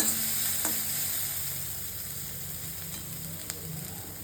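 Onions sizzle steadily in a light film of oil with turmeric powder added, a continuous soft frying hiss with faint stirring clicks, close and even throughout, no voices.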